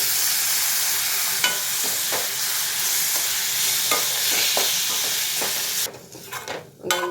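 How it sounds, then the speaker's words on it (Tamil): Tomatoes frying with chili powder in a pan for a tomato chutney, a constant close hiss and sizzle broken by scattered clacks of a stirring spoon, then dropping off sharply near the end to a few louder knocks. "மிளகாய் தூளோட நல்லா சேர்த்து வதக்கிடணும்"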